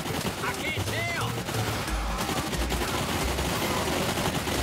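Rapid in-game gunfire from the VR shooter Bulletstorm VR, bursts of shots over a dense, busy mix of game effects and voice-like sounds that run continuously throughout.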